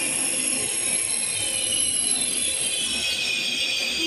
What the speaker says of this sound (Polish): Wjeżdża Pendolino do Gdyni Głównej.